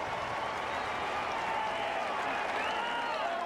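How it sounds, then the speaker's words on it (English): Crowd at a South Carolina college football stadium during a 1997 game against Auburn, a dense, sustained roar of yelling and cheering with some clapping, loud and continuous throughout. "And listen to the crowd."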